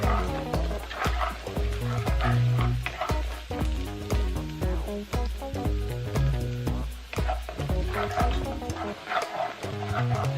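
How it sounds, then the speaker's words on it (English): Garlic sizzles in hot oil with a steady crackling hiss, continuous and close, with a few clicks of stirring. "When the oil is hot, add the garlic. You can hear the sizzling."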